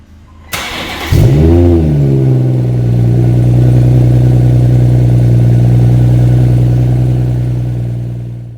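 A 2016 BMW 340i M Sport Touring with an M Performance kit cold starts: a short starter crank, then the engine catches with a loud rev flare and settles into a high, steady cold idle that fades slightly at the end.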